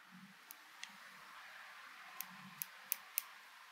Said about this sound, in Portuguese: Vou cortar aqui, mas não rente, ó.